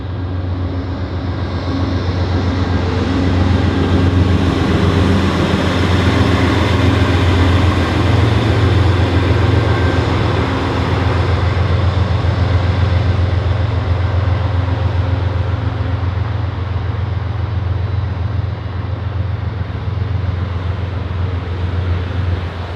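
An Amtrak passenger train hauled by a GE P32-8BWH "Dash 8" diesel locomotive rumbles steadily past at close range in Indianapolis, heavy low engine drone and rolling wheel noise holding loud for the whole stretch.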